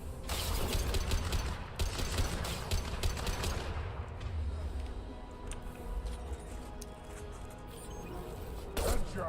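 Rapid gunfire in the sci-fi shooter game Mass Effect sounds as a dense string of cracking shots, then gives way to mechanical clanks and rumbling combat ambience, with a final louder shot near the end.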